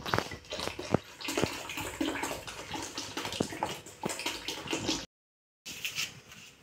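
Water splashes and sloshes close by as it is poured and worked through cream to gather the butter, a busy, uneven run of gurgles and drips that stops briefly before resuming.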